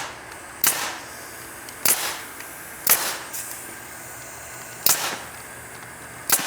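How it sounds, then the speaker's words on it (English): A staple gun fires five sharp, loud snaps at irregular intervals while wire or mesh is fastened during construction of a chicken coop and run. No voices are heard between the snaps. "Work our way down, slowly but surely, just stapling away"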